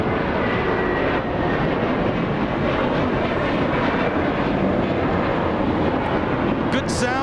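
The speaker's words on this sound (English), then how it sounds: "We have American 2928 flying to Dallas, Texas, an Airbus A321" An American Airlines Airbus A321 jet airliner at Los Angeles International Airport gives a steady, loud, broadband roar throughout, close by and unbroken, with a faint voice underneath.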